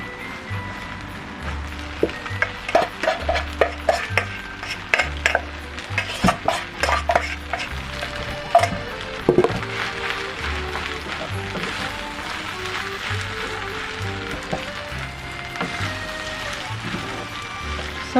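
Chicken and prawn fried rice is mixed in a pan with a utensil, giving repeated clattering scrapes and knocks against metal over a soft background sizzle, most busy in the first half and then settling.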